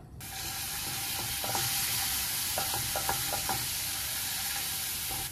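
Olive oil sizzles steadily in a frying pan, a continuous bright hiss running throughout, with a few light clinks and stirring sounds near the middle; no one speaks.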